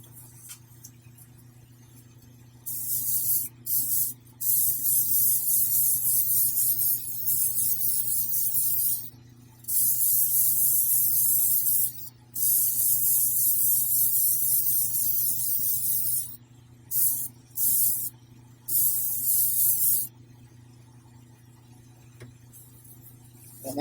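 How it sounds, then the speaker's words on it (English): Airbrush misting paint over a quarter-scale Beast prototype figure, a soft steady hiss in repeated short bursts of a few seconds each, with a low hum underneath throughout. "I'm going to just mist this over this to kind of blend it in a little bit"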